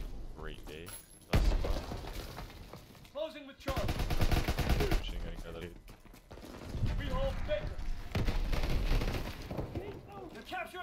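A burst-fire gun in the Call of Duty WW2 video game fires in loud, rapid volleys that come in repeated bursts. A person talks excitedly over the gunfire.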